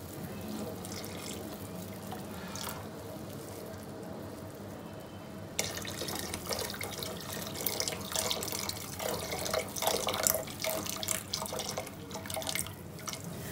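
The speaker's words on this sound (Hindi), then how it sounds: "फालसे का जूस जो हमने निकाला था अब वो हम इसके अंदर डाल देंगे।" Falsa juice pours into a sugar and rose water syrup as a steady liquid stream and trickle, quiet at first and then fuller and splashier partway through, close by with no voices.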